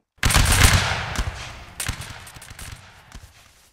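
A musket volley erupts in the video game Napoleonic Wars, a loud simultaneous burst of many shots followed by a ragged trail of scattered later shots fading over a few seconds.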